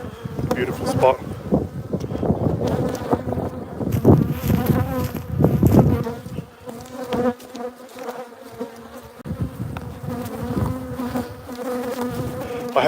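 Bees buzz around a hive in bushland near the Otway National Forest in southern Victoria, a dense, steady insect drone close to the microphone, with a person speaking briefly over it.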